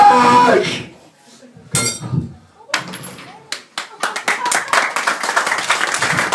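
Clapping from a small audience at a live music performance starts sparse and scattered after a voice and a short pause, then builds into quicker, denser applause, with sharp individual claps near and clear.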